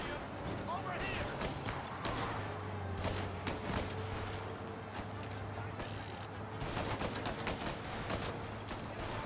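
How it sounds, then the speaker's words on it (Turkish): Gunfire from the video game Mafia: Definitive Edition, rapid bursts of shots cracking over a steady engine hum, with someone talking over the action. "Rastgele sıkıyorum ha."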